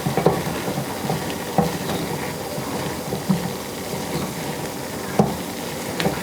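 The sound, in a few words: stirring rice in a pan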